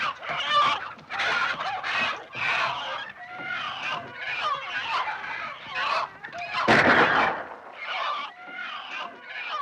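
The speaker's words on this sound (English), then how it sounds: "The fox is in my hen house!" Hens in a farm hen house during a fox raid, squawking and clucking in loud, agitated bursts that continue throughout, with frantic overlapping calls.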